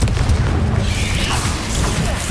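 A Confringo spell blast in Hogwarts Legacy erupts as a loud, close, booming burst that rumbles and fades over about two seconds.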